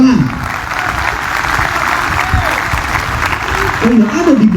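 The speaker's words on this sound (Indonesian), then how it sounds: "Tepuk tangan." Assembled crowd at a closing ceremony for newly graduated police bintara at a police school claps steadily in a close, full round of applause, with voices briefly heard at the start and end.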